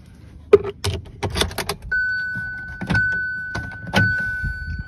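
A key pulled from a Hyundai Grand i10 Nios or Aura, with a jangle of keys and sharp clicks, then the doors unlocking in a series of mechanical clunks, each followed by a steady electronic warning tone.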